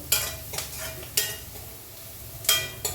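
Garlic fries in a pan for rajma curry, a soft sizzle broken by several sharp scraping stirs of a spatula against the metal, close and quiet with no voices.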